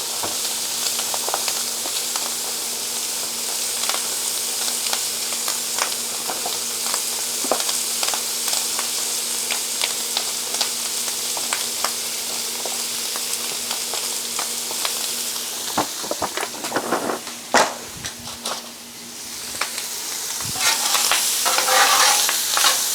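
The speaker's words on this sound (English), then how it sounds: "we're going to add our andouille sausage." Pre-cooked andouille sausage sizzling and browning in a pan for shrimp and grits, with a steady loud frying hiss broken by frequent scrapes and clatters of stirring.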